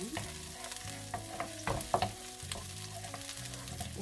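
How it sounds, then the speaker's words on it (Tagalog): Garlic sautés in olive oil, a gentle continuous sizzle broken by repeated clinking and scraping as a utensil stirs the pan, busiest near the middle. "At igigisa na natin ang ating bawang at saka ang ating onion."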